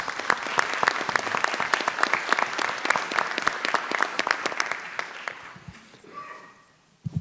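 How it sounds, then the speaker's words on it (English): An audience at a town meeting applauds in a hall, dense clapping that holds steady for about five seconds and then thins into scattered claps, with a little murmuring as it fades. "I think he deserves a round of applause for doing that"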